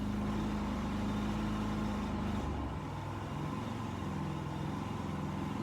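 A Harbor Freight Predator generator runs on its eco throttle setting, a steady close engine drone that drops to a lower, quieter hum partway through, with no talking.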